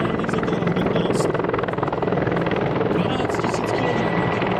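Mil Mi-24 military helicopter flies over Ivančice, a loud, continuous rotor and turbine roar that holds steady throughout.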